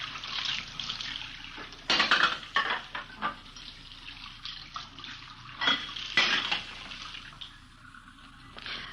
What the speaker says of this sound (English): We found her in the kitchen washing dishes.